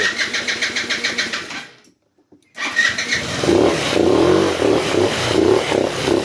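Kymco People S 200i scooter engine, running lean and idling unevenly, cuts out briefly and then pulls loudly and steadily while climbing a hump, close to the microphone.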